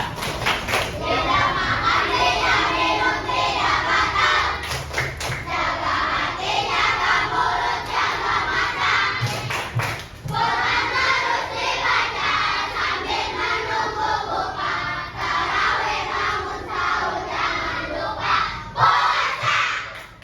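A group of children chant loudly together in a classroom while clapping in rhythm, their voices filling the room with a continuous, energetic stream.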